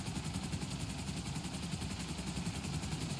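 Helicopter in the video game GTA 5, a steady whirring rotor and engine drone with rhythmic blade chop, moderately loud and continuous throughout with no talk.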